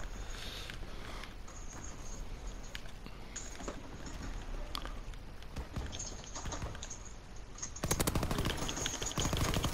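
Gunfire in the Call of Duty WWII video game, rapid rattling shots and crackling bursts through the clip, growing denser and louder toward the end.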